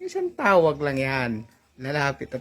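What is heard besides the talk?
No everyday noises stand out.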